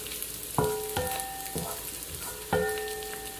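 Salted shredded beef stirred in a pan with a few sharp metallic clinks of the utensil against the pan over a soft, continuous background sizzle.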